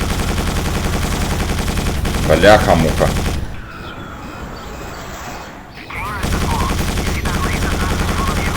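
Rapid gunfire from Quake 4 as the player shoots at a distant turret while moving through a canyon level. Dense bursts of shots crackle over a loud game soundscape, with a brief lull in the middle and a voice muttering.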